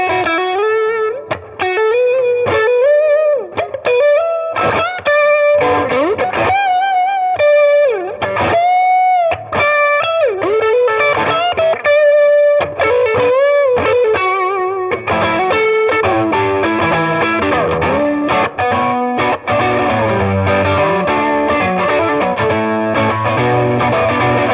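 A PRS Silver Sky electric guitar runs through effects, playing a long melodic passage of sustained, bending lead notes that gives way to busier, denser chordal strumming, loud and close with no voices.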